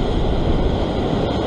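Large sea waves surge and break against rocks on an Australian fishing shore, a loud, continuous roaring wash with some wind noise on the microphone.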